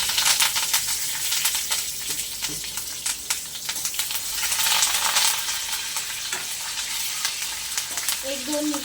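Dried red chillies and curry leaves crackle and sizzle steadily in hot oil, a dense continuous frying hiss with brief louder pops, close and without talk.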